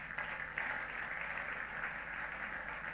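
A church congregation at a healing service claps in a steady, continuous patter, quiet and somewhat distant, with no voices over it.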